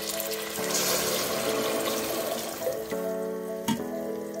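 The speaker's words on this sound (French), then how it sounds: "Et on va mettre l'eau." Water pours steadily into a cooking pot of browned fava beans, a continuous close rushing splash with a slight hum under it and a brief knock near the end.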